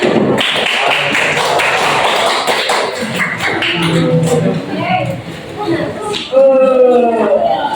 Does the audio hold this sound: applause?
yes